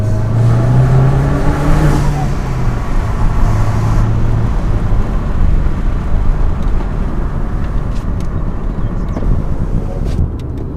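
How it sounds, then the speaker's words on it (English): Alfa Romeo 159 with the 1750 TBi turbo engine and a custom intake pipe revs loudly, its engine note rising and falling with strong induction noise close by, no voices over it. "I'm really liking the sound of the intake pipe as well. It's just much more induction noise than it was before."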